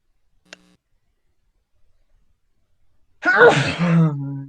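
A single sharp sneeze bursts out after a near-silent stretch with a faint click, then a voice follows right after it.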